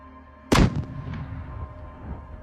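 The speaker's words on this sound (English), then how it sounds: "Reload and another shot." A tank cannon fires a single heavy shot in a combat assault on trenches, a powerful close blast followed by a long, low rumbling decay.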